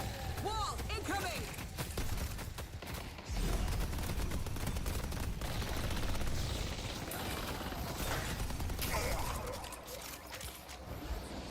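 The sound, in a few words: automated turrets firing in a video game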